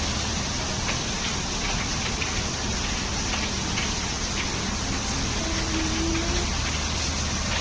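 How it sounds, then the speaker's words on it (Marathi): Heavy summer rain falls in a steady, moderately quiet hiss that stays even from start to finish, with a faint low hum underneath. "तुझ्या फ्रेंडला सांग ना कसा जोराचा पाऊस आलाय"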